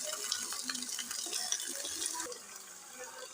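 Chicken added to a pan with garlic-ginger paste and mixed, producing close clinking, scraping stirs and a light sizzle that fades toward the end.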